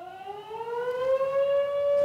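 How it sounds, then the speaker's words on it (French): A town siren sounds a false alarm, one loud wailing tone rising steadily in pitch and holding strong, with no voices over it. "Fausse alerte. C'est une simple sirène de la ville."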